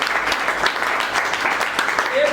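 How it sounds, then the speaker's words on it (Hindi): An audience at a leaders' meeting claps loudly in a dense, continuous burst of applause, with voices mixed in throughout. "एक बार इनके लिए जोरदार तालियां"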